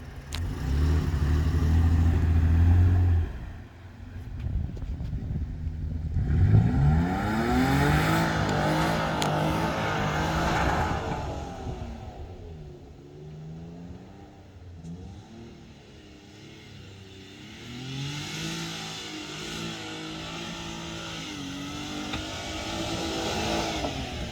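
A Nissan Frontier Pro4X pickup truck, a pre-production example driven in manual mode, revs and accelerates hard, its engine note rising through repeated sweeping pulls, loud and close, with no talking over it.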